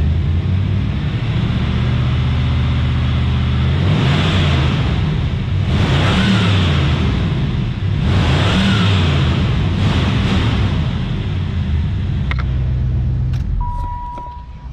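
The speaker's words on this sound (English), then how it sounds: "Let's rev the motor up a little bit," A 1994 Cadillac Fleetwood with the 5.7L LT1 V8 revving in several loud, close pulses over a steady idle, the engine rising and falling four times before settling, then a few small clicks.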